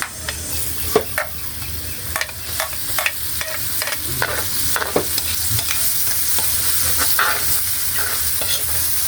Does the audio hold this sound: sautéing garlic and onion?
yes